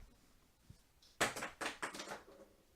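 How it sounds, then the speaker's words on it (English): A surgical instrument falls to the floor: a sudden metallic clatter followed by a few quick rattling bounces, fairly close, against a quiet background. "That was the sound of the instrument falling."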